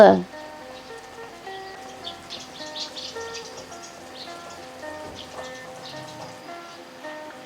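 Rain falls steadily in a faint, even patter, with bird chirps and tonal calls scattered over it after a short loud knock at the start.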